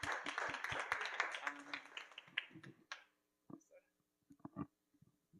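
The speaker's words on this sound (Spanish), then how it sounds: "Un fuerte aplauso a Jesús." Brisk clapping from a small church group fades out after a few seconds, leaving a handful of scattered claps and taps in near silence.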